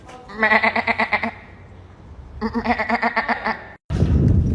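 Two long, quavering bleats, each pulsing rapidly, made by a person's voice imitating a sheep, close up, followed by a brief rustle.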